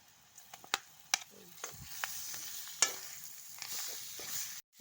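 Chicken pieces frying with salt and mixed spices in a pan, a soft hiss of sizzling broken by sharp clicks and scrapes of stirring, close by, with no one talking.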